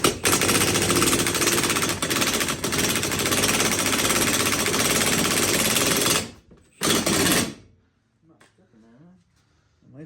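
Loud, continuous rattling hammer of a power impact tool working on roll bar bolts in a 1990 Mazda Miata, running steadily for about six seconds with a brief second burst, then falling quiet as faint voices talk.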